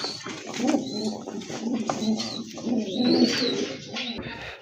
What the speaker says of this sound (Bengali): খুবই চমৎকার ইরানি সিরাজি কবুতর না?